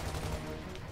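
Rapid gunfire from the video game Gears of War 2, a dense, continuous burst of shots with a booming low end, loud and steady for about a second with no talk.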